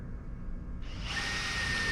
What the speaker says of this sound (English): what I'm going to do is I'm going to drill a pilot hole